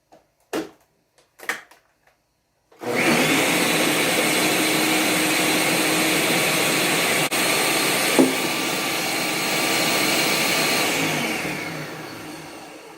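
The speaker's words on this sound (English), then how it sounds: "Give the blender a rest." An electric blender chops ginger for an immune-boosting recipe, its steady loud motor whir starting abruptly after a few short bursts of pulsing and running continuously to the end.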